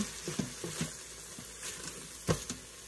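Fried rice with eggs sizzling softly in a pan, with a few scraping stirs near the start and a louder scrape toward the end, quiet overall.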